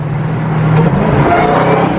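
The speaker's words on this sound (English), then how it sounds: "downshift right here." A Dodge Charger Hellcat engine drones steadily and close, its pitch shifting as it downshifts and revs.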